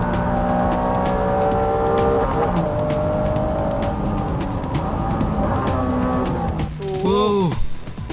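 Honda NSX-R race car chasing a 400-horsepower Dodge Viper on a racetrack, engines droning loud and close with a shifting pitch, then tires squealing sharply through a hairpin near the end.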